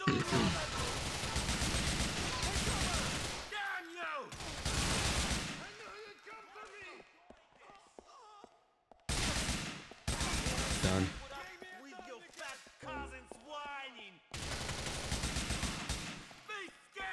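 Bursts of gunfire from Grand Theft Auto IV come in several loud clusters separated by quieter gaps, with sharp repeated shots, a few rattling sequences and game sound between them.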